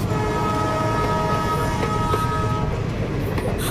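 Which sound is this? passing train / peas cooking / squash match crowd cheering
passing train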